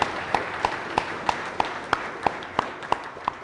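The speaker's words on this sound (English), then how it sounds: "a big round of applause for this team" Applause for a startup session's organizing team comes as evenly spaced, crisp claps in a steady rhythm of about three per second, distinct over a soft hiss of room noise.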